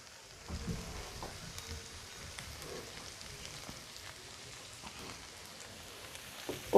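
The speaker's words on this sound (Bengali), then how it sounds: "আবারও সব কিছু ভালো করে মিশিয়ে 4 থেকে 5 মিনিট ভেজে নেব।" Chicken pasta with lemon juice frying in a pan, a faint, continuous crackling sizzle scattered with soft stirring clicks and taps.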